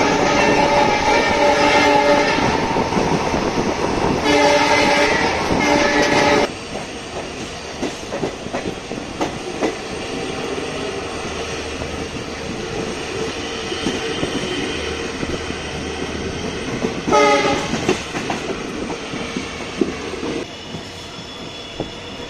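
Passenger train on a single-line railway in rain, heard from on board: a loud continuous rumble with rhythmic clickety-clack, wheel noise and bursts of horn or squeal, steady throughout with no voices.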